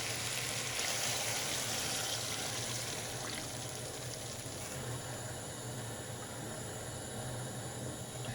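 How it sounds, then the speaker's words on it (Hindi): Water, three glasses' worth, poured into a pot of beef kofta frying with spices, giving a steady broadband splashing hiss that runs unbroken and fairly close throughout. "पानी डालेंगे 3 गिलास।"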